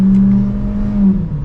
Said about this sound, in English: setting off now in the Equinox